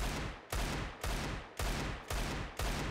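Desert Eagle pistol shots ring out in Counter-Strike 2, five loud, booming blasts fired at a steady pace roughly half a second apart, each trailing into a brief decay.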